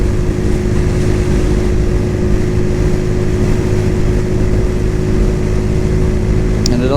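A Cougar Vitacci XMT 250 motorcycle on a test ride at low throttle, its engine a steady, even drone with a constant tone throughout, loud and close with wind rush, no talking.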